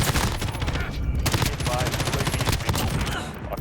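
Rapid gunfire from a Call of Duty Modern Warfare Ground War match, shotgun blasts among dense bursts of shots, loud and continuous throughout with battle noise.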